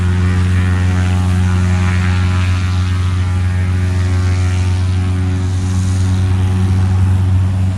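The STOL demonstration airplane Miss Moxie flies past at an airshow, its propeller engine producing a loud, steady, harmonic drone throughout, close and dominant with no voices.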